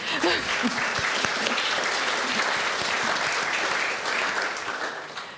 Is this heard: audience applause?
yes